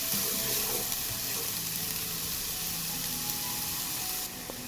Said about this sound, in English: I add onions to the heated oil. I fry for a short time